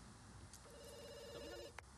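A telephone rings in The Sims 2, a short electronic ring tone sounding once, quiet and clear over a faint game background.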